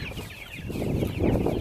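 Farm chickens cluck and murmur together at close range, a dense chorus of soft calls that grows louder toward the end.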